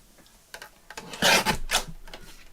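A paper journaling card being trimmed, a few short scraping cuts building to a louder rasping stroke near the middle, close up and with no voice.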